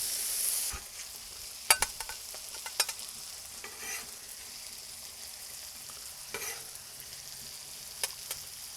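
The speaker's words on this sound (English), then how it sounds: "I'm just going to give this one last stir before I take it off." Chicken fajitas in a thickened sauce sizzle softly on a Blackstone griddle while a utensil scrapes and stirs through them in a few sharp, scattered clacks over a low, steady fry.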